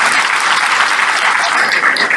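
Dense, steady applause from a banquet audience at an awards dinner, honoring a president after his remarks, loud and continuous throughout with no talk over it.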